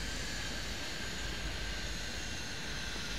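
A DH8C turboprop airliner arriving in the Airport Madness 3D tower game at Castlegar, a steady, even engine drone that holds constant throughout without talk.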